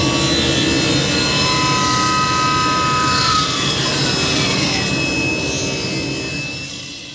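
A table saw runs loud and steady as it cuts a wooden board, with a high whine over a dense roar that eases toward the end, and no talking.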